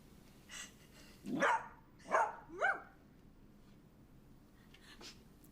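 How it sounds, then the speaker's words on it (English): Three sharp, deep barks from a standard dachshund, spaced about half a second apart, fairly close but moderate in level against a quiet indoor background, with no talking. "They got a big dog bark for how small they are."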